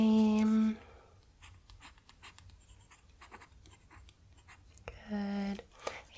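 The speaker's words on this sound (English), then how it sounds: "on the card, I'm just going to write" Pen scratching across a library card, a soft close scribble between two sustained tonal hums at the start and end, quiet and intimate in a soft-spoken setting.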